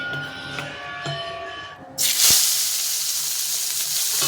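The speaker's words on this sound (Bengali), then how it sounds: "শুটকি মাছটা আগে একটু ভেজে নেবো" Quiet kitchen ambience gives way suddenly to a loud, bright sizzle as dried fish hits hot oil in a kadai, with the hissing frying continuing steadily and close.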